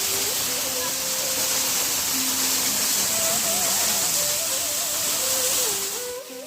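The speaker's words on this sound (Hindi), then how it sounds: "मैं आपको झरने की आवाज़ सुनाता हूँ" Rushing water pours at Mincha Waterfall in a Karnataka forest, a constant loud hiss of falling water heard close by, with a melodic tone drifting over it throughout.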